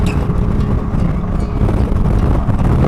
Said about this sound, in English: This is a gusty wind area.